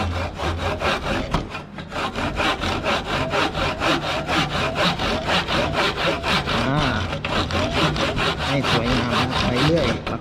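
Wood being notched and scraped by hand with a saw and scraping tool, a steady run of rhythmic rasping strokes close up, continuous and loud with a brief pause near the start.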